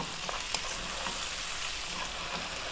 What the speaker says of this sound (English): we're going to go for another 5 or so minutes, stirring really often now